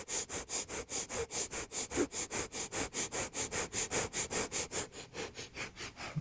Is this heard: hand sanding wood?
no